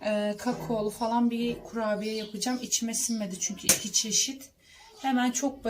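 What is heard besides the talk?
No distinct noise like a dog, phone or traffic.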